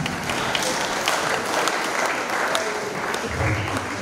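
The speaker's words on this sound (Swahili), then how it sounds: "hebu jipigieni makofi kwa kutamani" A church congregation claps together in sustained, dense applause that runs steadily for the whole stretch, with a voice carrying over the clapping.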